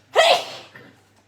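One loud, close sneeze bursts out and fades, followed by a faint breath in a quiet room.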